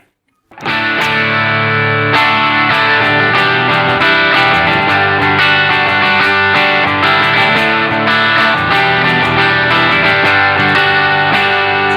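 Electric guitar with humbucker pickups played through an Earthquaker Devices Special Cranker overdrive pedal, crunchy distorted chords sustained loudly and steadily with no talking.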